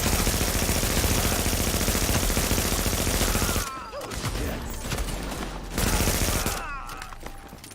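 Gunfire in the video game Dark Zone: dense rapid automatic bursts, loud and close, breaking off into short pauses and then resuming in shorter volleys.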